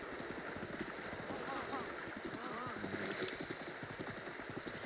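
Rhythmic hoof clops of a horse moving at a steady pace in The Legend of Zelda: Breath of the Wild, with a few synthetic game sound effects layered over the top.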